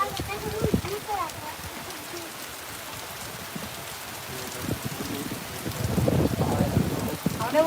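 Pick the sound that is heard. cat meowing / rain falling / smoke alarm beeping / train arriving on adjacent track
rain falling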